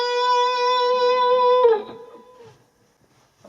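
Electric guitar playing a 12-bar blues lick, a sustained bent note ringing clearly before a slide and a few quick picked notes, then decaying into silence.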